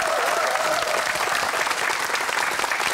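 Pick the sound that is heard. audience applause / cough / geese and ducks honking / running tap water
audience applause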